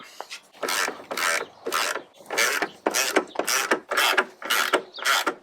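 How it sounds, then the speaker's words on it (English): A hand ratchet loosening the headlight mounting bolts on a Jeep, nine or so quick clicking strokes in a regular rhythm, close and clear with short pauses between. "we're going to go ahead and remove the 3 bolts, 1, 2, and 3 over here to remove our headlight"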